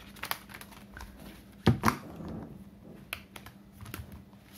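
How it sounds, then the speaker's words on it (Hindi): Tarot cards are shuffled in a quick, soft flurry of papery riffling in the middle, between faint taps and rustles. "One more shuffle."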